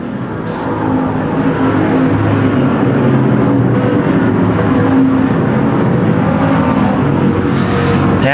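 ModLite PureStock race cars lapping a racetrack at the Desert Thunder event, a steady loud blended engine roar from the pack running continuously at some distance.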